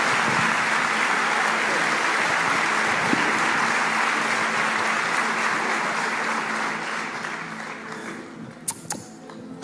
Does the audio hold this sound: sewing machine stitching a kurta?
no